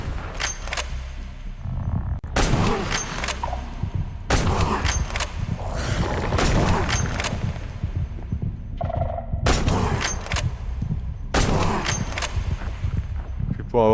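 Gunfire in the Minecraft Prehistoric World mod: repeated loud, sharp shots in bursts over a steady background of game noise and rumble, continuing throughout.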